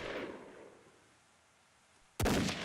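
Gunfire or fireworks in the blocky shooter game Brick Force: a sharp loud burst near the end after a fading noisy tail, alone with no talk.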